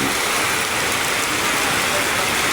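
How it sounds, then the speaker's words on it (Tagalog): Heavy rain pouring down on Carmen Street in Tondo, a loud, constant broadband hiss of downpour close to the microphone, unbroken throughout with no talk. "tudo-tudo pa yung ulan dito"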